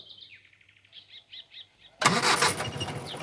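Vehicle engine starting abruptly after a few bird chirps, the motor catching with a loud burst and settling into a steady nearby idle.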